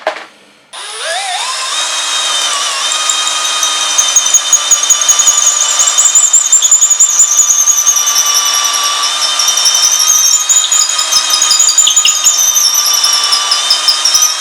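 A power drill runs continuously, close and loud, drilling holes for a DIY pen and box gift: a steady, high motor whine with a rising start and slight wavering pitch, with no talk.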